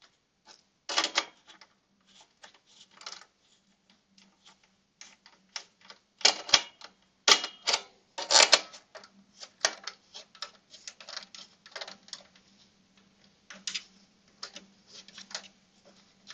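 Small metal nuts being screwed by hand onto a button panel of a PLC training kit, heard as a long run of close, sharp clicks and ticks in irregular bursts with brief pauses between, no talking.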